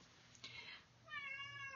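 A house cat meows to be let out, a faint short call followed by a longer drawn-out meow, heard close and alone.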